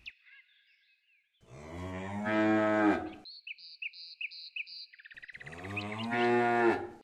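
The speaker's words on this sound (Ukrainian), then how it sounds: "Корова." Two long, loud cow moos at a livestock reserve steppe enclosure, each deep and drawn out, separated by a short gap filled with high chirping birdsong; no talking.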